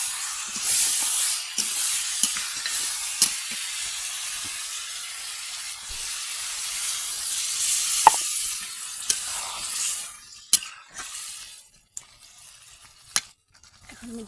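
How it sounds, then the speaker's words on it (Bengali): Country rooster meat with spices fries in a pan on a village clay stove. A loud, close hiss and sizzle fades after several seconds into quieter bubbling, broken by sharp knocks and scrapes of stirring. "এখন আমি কষানোর পানি দিয়ে দেবো। এই দেখুন একদম ভাজা ভাজা করে ফেলছি।"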